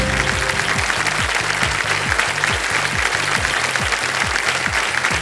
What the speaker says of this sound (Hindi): सर इधर की जो जनता बैठी है ना, वो बहुत जोर से ताली बजा रही है